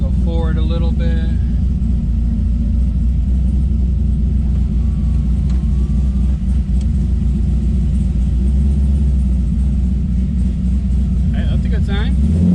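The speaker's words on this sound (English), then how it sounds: "The first thing I'm going to do is just try to back out of the garage like a couple of feet, pull the handbrake and see if it stops us." A C5 Corvette drift car idles with a steady, heavy low rumble as it backs a few feet out of a garage; the engine drones loud and close throughout, with brief voices near the start and end.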